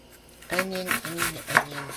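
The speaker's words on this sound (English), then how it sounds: "Okay, so get this onion chopped." An onion is chopped with a knife on a board, a few quick close thuds and scrapes over about two seconds, with a voice speaking over them.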